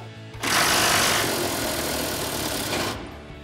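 A bolt on the shock absorber of a 2019-2023 Silverado 1500 is worked loose with a wrench on an extension, giving a loud, close, rapid mechanical rattle that lasts about two and a half seconds and then stops, with no talking.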